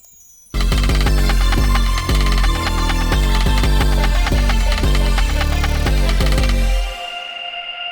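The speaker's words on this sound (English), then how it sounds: "In the second part of the main section we have another synth" A bright, layered synthesizer riff plays loud and steady after a brief pause, with rhythmic plucked notes over a sustained bass, fading out at the end.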